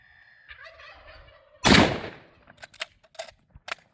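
An Enfield No.1 battle rifle fires one loud, sharp shot close by, its blast lingering briefly, followed by several quieter clicks and knocks that fit handling of the bolt and action.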